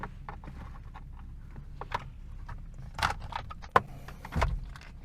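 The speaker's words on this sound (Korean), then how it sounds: "이렇게 에어백을 뺐습니다" Plastic clicks and rustles as a steering wheel airbag is pressed loose and pulled out by hand inside a car, with a few sharp snaps and a louder knock near the end.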